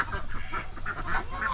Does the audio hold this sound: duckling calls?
yes